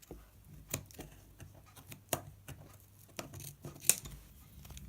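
Scissors snip excess string off a puppet's legs, several short crisp cuts at an uneven pace, close and fairly quiet with no talking.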